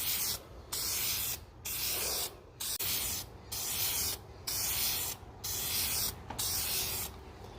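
Second coat of spray paint going onto a 2003 Mustang bumper, about ten short hissing bursts in a steady on-off rhythm, close and loud, with brief quiet gaps between passes.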